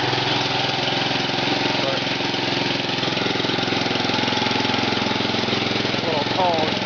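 Briggs & Stratton small engine fitted with a custom exhaust runs steadily for the whole stretch, a loud, close, continuous rumbling drone with a faint voice now and then.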